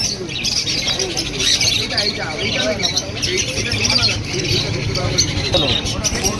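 A lory parrot at the Serampore exotic bird market, sharp squawks and chirps scattered among other birds, heard under someone talking nearby.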